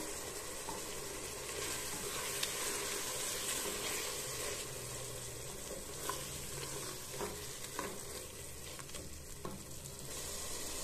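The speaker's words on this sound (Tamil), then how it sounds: "நல்லா சேர்த்துட்டு பச்சை வாசனை போக தட்டியும் நல்லா வதக்கி எடுத்துக்கிடுவோம்." Coriander and mint paste sautéing in hot oil in a pan, a continuous soft sizzle with occasional scrapes and taps of a spoon as it is stirred, close and steady.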